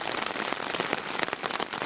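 Heavy rain drums steadily on a tent in the woods, a dense close patter of drops with no voices.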